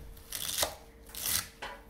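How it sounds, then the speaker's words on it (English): Fresh celery is chopped for lobster rolls: two or three crunchy, scraping knife strokes on a board, close and fairly loud, with no voices. "Chopping up some fresh celery."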